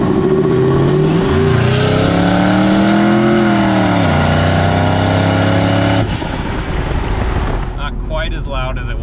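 Ford F150 turbo truck with a big turbo and a downturned pipe revs loudly, the engine pitch climbing, holding, then dropping before a rougher idle; the exhaust roar stays close and dominant.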